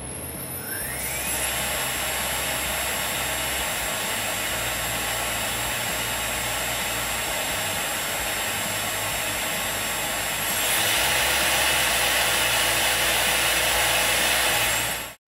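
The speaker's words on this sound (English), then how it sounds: "Now with the spindle mounted, I plugged it in to confirm everything seemed to be working as it should." A newly mounted spindle on an Avid CNC PRO 4848 4x4-foot router kit whines steadily at a high pitch with a low electrical hum beneath, growing a bit louder and brighter toward the end before cutting off abruptly.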